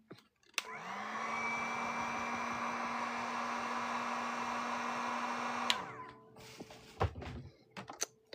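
A hair dryer whirs steadily for about five seconds to dry a watercolor painting of a flower with an orange center, a close, even blowing hum that switches off, followed by a few light knocks and handling sounds.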